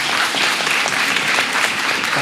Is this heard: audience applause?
yes